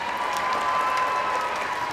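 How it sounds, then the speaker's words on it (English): An audience at a school boy-band assembly applauds, dense steady clapping from a large crowd filling the hall for the whole moment. "Let's give a round of applause for those two."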